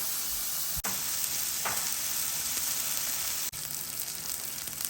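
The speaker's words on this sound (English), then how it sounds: "While that burger continues to cook up" A chopped-cheese burger fries on a Blackstone 17-inch E-Series electric griddle, giving a steady, close, hissing sizzle that runs without a break and stands alone, broken only by two brief clicks.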